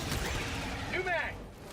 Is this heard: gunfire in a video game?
yes